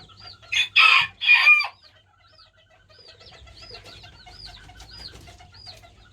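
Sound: Chinese painted quail chicks chirping

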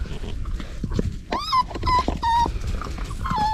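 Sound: puppy whimpering and squeaking

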